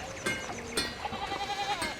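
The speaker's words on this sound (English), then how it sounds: "Seems like there's sheep everywhere." Sheep bleating in the medieval video game Pentiment, a couple of short bleats over a faint outdoor backdrop with no talk.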